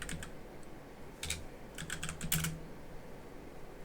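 Typing on a computer keyboard, a few quick clusters of light key clicks, faint and close in a quiet room, with no talking.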